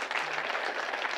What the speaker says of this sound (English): You better clap.